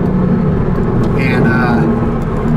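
A mid-engine car merging onto a highway, with a steady low road and engine rumble filling the cabin and a voice talking over it.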